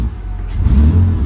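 A short burst of engine revving, the deep exhaust note climbing quickly and holding loud for about a second.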